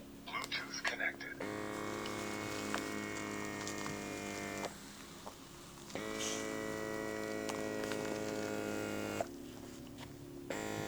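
An eye therapy mask runs in air-pressure-plus-heat mode, giving a steady electric pump hum with tonal whine that dips briefly twice and resumes, fairly quiet and close.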